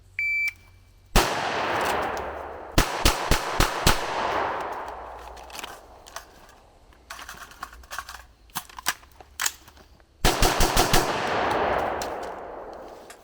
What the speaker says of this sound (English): Reholster pistol, perform combat reload on rifle, and fire another 5 rounds into the A zone or chest box.